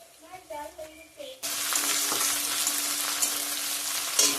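Chopped garlic frying in oil for a bean-seed tarka, a bright, steady sizzle that bursts in suddenly after a quiet stretch of faint voices and clatter, then holds loud and close.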